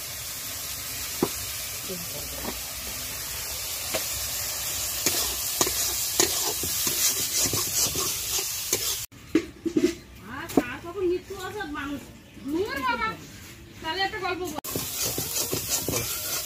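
Spice paste being stir-fried in a pan before potato and jackfruit go in, a low steady sizzle with repeated scraping stirs, then louder frying bursts later while a voice talks over it.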